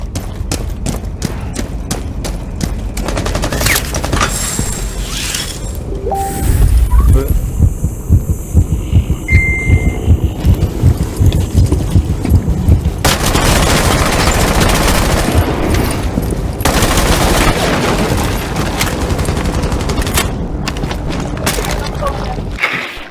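Rapid bursts of gunfire in Rainbow Six Siege's Nest Destruction mode, dense and loud for long stretches, with a voice talking over parts of the shooting.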